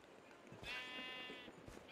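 A Minecraft sheep gives a short, faint bleat, with a brief second bleat starting at the end, against quiet game background noise.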